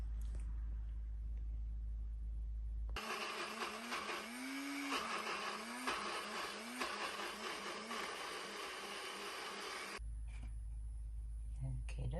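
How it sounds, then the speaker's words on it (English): A blender whirs loudly through onion and pepper, starting abruptly and running for several seconds with a wavering, grinding motor pitch, then cutting off sharply. "I'm not adding oil to it, I'm just blending it."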